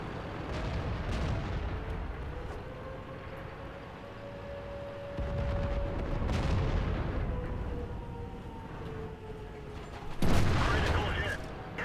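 In the World of Tanks video game, tank cannons fire several heavy booms amid a rumbling battle soundscape, one especially loud blast near the end, with someone talking over the noise.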